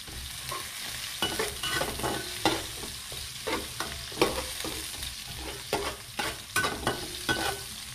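Onions sizzle in a hot pan as a spoon stirs and scrapes in quick, repeated strokes, close and continuous, the frying hiss steady beneath the clatter.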